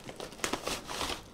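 Paper wrapping crinkling around Russian GSSh-01 active hearing-protection headphones, a close, busy rustle with a few sharper crackles as the paper is handled.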